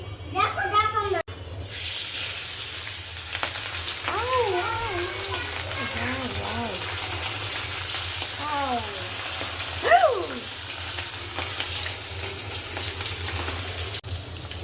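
Small puti fish frying in a generous amount of hot oil in a wok, a steady broadband sizzle running throughout at moderate level while someone talks over it.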